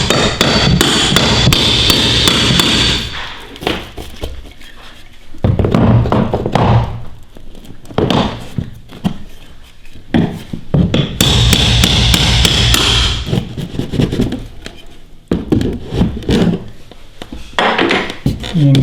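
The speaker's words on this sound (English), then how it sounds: "now we're going to take a hammer and some sort of pry bar" Sharp, rapid hammer strikes ring out in clustered bursts with a pry bar working loose nailed wood molding, quieter gaps of creaking and scraping between the rounds of banging.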